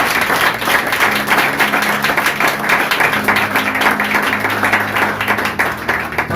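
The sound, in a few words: congregation applause in church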